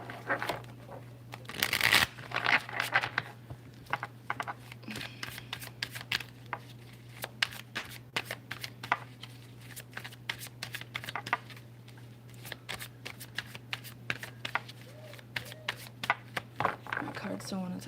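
Tarot cards are shuffled repeatedly close by, a dense run of soft riffling flicks and slaps over a low steady hum, with faint talk in the background.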